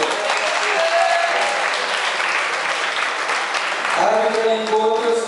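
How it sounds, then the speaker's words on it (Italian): A boxing-event crowd applauds steadily, a loud, continuous wash of clapping from a large audience, with a voice briefly heard over it near the end. "un applauso, grazie."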